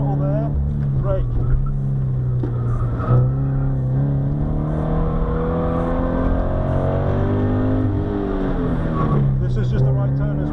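A sprint car at Barkston Heath airfield circuit drives at full throttle with a loud, continuous engine drone that rises and falls as it brakes and accelerates, and someone speaks over the engine.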